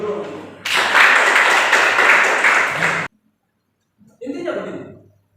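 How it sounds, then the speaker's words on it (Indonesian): A burst of group clapping from a mathematics class for about two seconds, then a brief silence before a person starts talking. "Tepuk tangan dulu."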